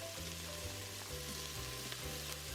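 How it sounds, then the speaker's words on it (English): Onions sizzle after going into a hot Instant Pot for a Bengali-style chicken and potato curry, a faint, steady frying hiss with light stirring and no speech. "So now I'm going to add in the onions."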